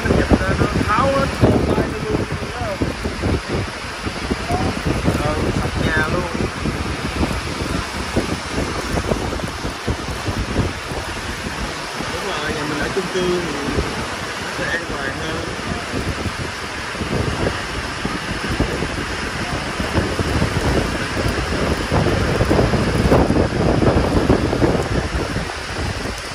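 A thunderstorm passes an apartment building, with steady heavy rain and gusting wind roaring loudly and continuously throughout, the wind buffeting the microphone.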